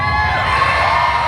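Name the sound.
Missouri crowd cheering at Mo-Kan Dragway drag race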